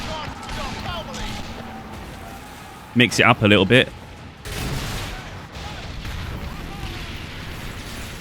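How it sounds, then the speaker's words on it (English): Musket volleys fire from a pirate ship during a naval battle in the video game Skull and Bones, sounding as rumbling gunfire beneath continuous game noise, with a person talking briefly partway through. "Now we can fire muskets, the guns."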